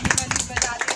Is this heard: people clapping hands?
yes